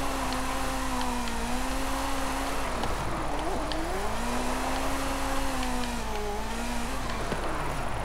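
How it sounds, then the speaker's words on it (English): Ferrari F40 drifting in Forza Horizon 5, a steady engine whine rising and falling with shifts over a wash of tire noise, loud and continuous, no talking. "try to drift it a bit"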